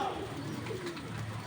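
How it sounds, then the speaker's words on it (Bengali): A red-necked, ash-bodied Archangel-type pigeon of the Mosaldom breed calls nearby in soft, short cooing notes over a steady hissing background. "আর্চ এঞ্জেল টাইপের কবুতর, চিক চিক চিক চিক করে।"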